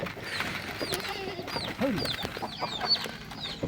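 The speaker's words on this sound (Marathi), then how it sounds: "चार पाच कोंबड्या आहेत" Several hens cluck and chirp nearby in a busy, overlapping chorus, with a few higher squawks mixed in.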